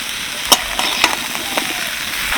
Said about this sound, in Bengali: মুগ ডালটাও আমি কিন্তু হালকা করে ভেজে নেবো